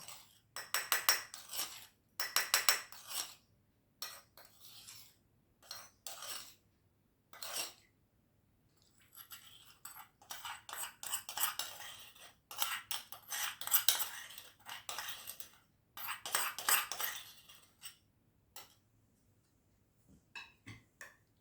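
Mango pickle with sesame oil and asafoetida being stirred in a pot, a run of repeated metallic spoon scrapes and clinks in uneven bursts across the whole stretch, fairly close, with no talking.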